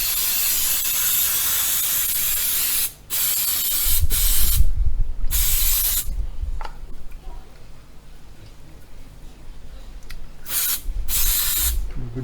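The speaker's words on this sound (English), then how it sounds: "A bit of contact cleaner." Contact cleaner aerosol sprayed on ignition parts while installing an MSD ignition system, several loud close hissing bursts of varying length separated by short pauses, with clicks and handling noise between them.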